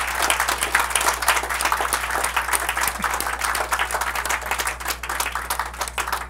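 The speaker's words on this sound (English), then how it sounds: "Round of applause for Mandy." Steady, dense audience applause after a talk on early recognition and prevention of addiction, a continuous wash of many hands clapping at an even level throughout, with no voices standing out.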